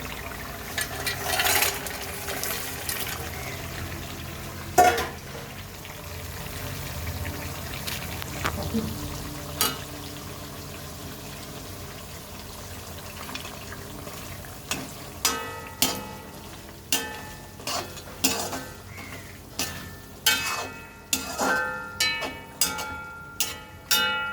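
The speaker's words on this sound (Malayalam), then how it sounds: "നമുക്കിനി ചെമ്മീൻ ചേർത്ത് കൊടുക്കാം" Prawns tipped into a simmering gravy in a pan for prawn pickle, with a soft frying sizzle, then a run of sharp spoon-against-pan clicks and scrapes as the mixture is stirred, close by.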